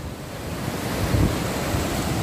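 Floodwater from a stormy downpour pours over the edge of a town pond, a loud continuous rushing wash with wind buffeting the microphone.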